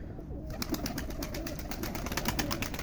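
Pigeons coo softly at close range in a loft, a low murmuring burble repeating over steady background rustle and faint clicking.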